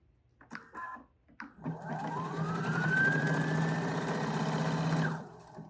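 Husqvarna Viking Topaz 55 sewing machine stitching in one steady burst of a few seconds, a fast needle clatter and motor whine rising in pitch, then stopping, after a couple of small clicks.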